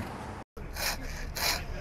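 Power tools cut through wood during roof repairs after a severe windstorm in the Puget Sound region, with two bursts of buzzing, rasping sawing. Rough background noise fills the gaps between them, and a brief dropout breaks the sound partway through.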